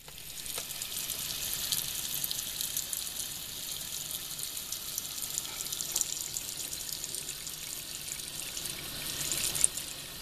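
Dandelion greens being rinsed under a running kitchen tap at the sink: a steady, close, hissing stream of water pours without a break, with faint splashes and clinks.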